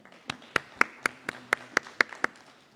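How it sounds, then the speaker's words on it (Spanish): An audience at the launch of a bicentennial commemoration and battle reenactment claps: about nine sharp, evenly spaced claps in a steady rhythm, close and distinct over a quiet room. "Fuertes aplausos, por favor."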